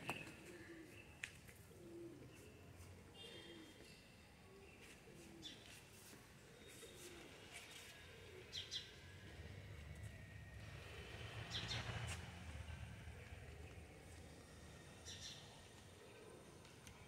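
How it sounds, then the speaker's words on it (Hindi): In a garden after rain, birds call and pigeons coo softly, a repeated low cooing with scattered chirps, faint and somewhat distant against quiet background. "और बहुत सारी पक्षी इसमें आश्रय भी लेते हैं।"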